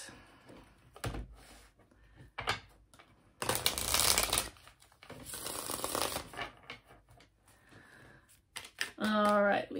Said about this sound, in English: That was the shuffle.